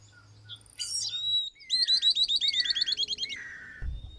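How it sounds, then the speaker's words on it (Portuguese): Southern Beardless-Tyrannulet (risadinha) calling nearby in the open: a rapid, even series of high, bright chattering notes that runs for about two seconds and then trails off. A sharp chirp from another bird comes first. "Consegui registrar o risadinha. É a primeira vez que eu filmo ele e vai vocalizar de novo."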